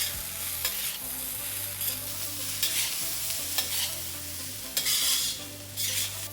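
Spicy Mexican fried rice with a little lemon juice is tossed and scraped in an old iron kadhai. Repeated close, gritty stirring strokes sound over a low sizzle and a steady background hum, with no speech.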